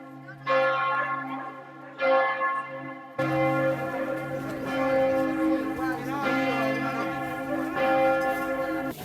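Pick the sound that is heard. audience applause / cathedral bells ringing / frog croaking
cathedral bells ringing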